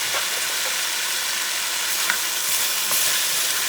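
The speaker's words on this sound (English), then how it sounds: "Mix it up a little bit." A Puerto Rican beef stew mixture with tomato sauce is stirred in a pot, a steady close sizzling hiss with soft scraping and no talking.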